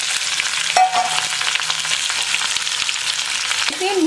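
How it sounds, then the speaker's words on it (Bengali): Fennel seeds sizzle and crackle steadily in hot oil in a kadai, the start of a vegetarian aloo dum, with a loud, continuous frying hiss. "আর তেল গরম মোটামুটি হয়ে গেছে এটা একদম নিরামিষ আলুর দম করছি গরম তেলে না আমি একটু মৌরি ফোড়ন দেবো"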